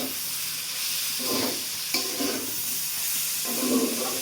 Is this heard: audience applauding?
no